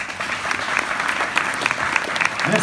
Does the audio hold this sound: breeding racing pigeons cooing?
no